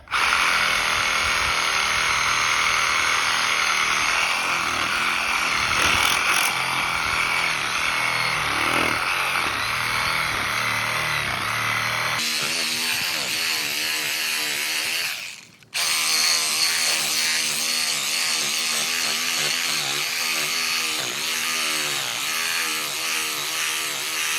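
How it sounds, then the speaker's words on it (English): A sawzall reciprocating saw fitted with an old blade cuts into the ground outdoors, a loud, continuous buzzing rattle that changes pitch midway and cuts out briefly before resuming. "Get yourself a sawzall, get yourself an old blade. If you got a long one, that's perfect. And just start cutting the ground."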